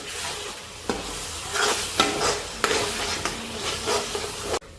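Egg curry masala being stirred in a kadhai, a steady loud sizzle of frying broken by several sharp scraping strokes of the spoon, with no voices.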